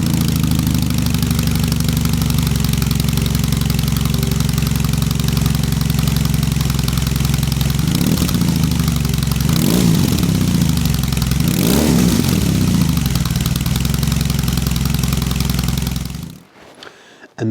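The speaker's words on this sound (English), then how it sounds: "This is what the standard exhaust sounds like." A BMW R18B motorcycle with its standard stock exhaust idles steadily and loudly up close, a deep, even rumble with a few slight blips in the middle, before cutting off abruptly near the end.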